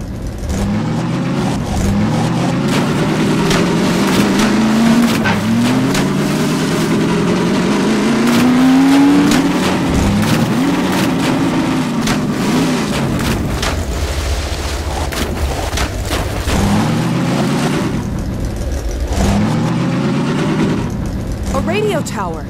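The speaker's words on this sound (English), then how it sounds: "just driving down the road" A car drives down a road in the PC game Half-Life 2: Episode Two, its engine droning and revving up and down in repeated sweeps, with voices talking over it.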